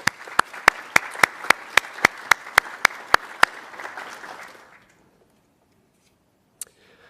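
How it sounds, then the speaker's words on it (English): An audience at a 2019 National Insider Threat Awareness Month forum applauds for about four and a half seconds, a steady wash of clapping marked by sharp, evenly spaced clicks, then falls silent except for one faint tap. "a big round of applause."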